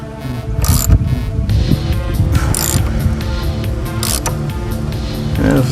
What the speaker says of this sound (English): Let's go and tighten a little bit more.